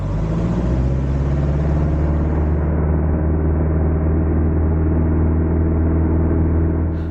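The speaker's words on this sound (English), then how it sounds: "the next thing to do was to get the aircraft back on the step and to step turn or to step taxi it towards the pontoon" A seaplane on floats step taxis across water toward a pontoon, its engine a loud, constant, droning roar with a steady low rumble throughout and no voices.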